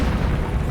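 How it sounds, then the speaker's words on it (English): A volcano's lateral blast bursting sideways out of a new opening on its north face, heard as a sustained, loud, low rumbling roar that stays steady throughout the brief moment with no gaps. "the volcano explodes in a lateral blast"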